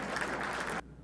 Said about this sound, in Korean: 박수도 좀 쳐주시면 감사하겠습니다.